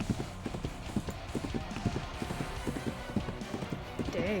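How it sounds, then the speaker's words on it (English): Horse hooves pounding in a steady galloping rhythm in Reverse: 1999, close and fairly loud over background game music, with a brief rising tone near the end. "The horse runs onward still, even striding several shallow depressions with ease before continuing forward."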